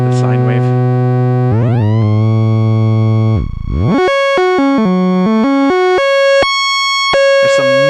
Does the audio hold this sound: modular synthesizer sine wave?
yes